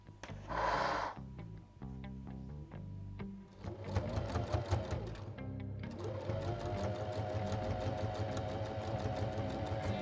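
A sewing machine stitches a seam around a backpack at a 1 cm allowance, with a short burst of stitching, pauses, then a longer steady whirring run close to the microphone.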